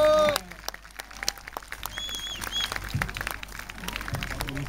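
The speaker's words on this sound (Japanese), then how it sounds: "大きな拍手を。" Audience clapping after a band's performance, a steady spread of applause with some background noise and faint voices, continuing throughout.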